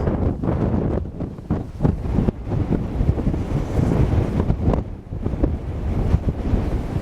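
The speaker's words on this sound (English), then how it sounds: "And it's blowing a bit of a gale." Strong gale-force wind gusts across open farmland near silage piles, buffeting the microphone with loud, irregular roaring bursts throughout.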